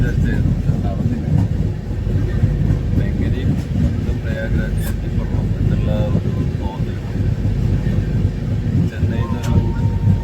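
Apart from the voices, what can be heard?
moving passenger train interior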